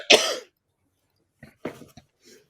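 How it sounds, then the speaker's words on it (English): Person with a cold gives one harsh cough up close, followed by a few quieter throat-clearing coughs after a short pause. "I'm going to cough."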